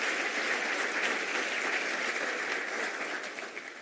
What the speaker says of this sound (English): let's give them applause.